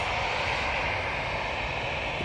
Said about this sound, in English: So it's using an A320-200 for this flight.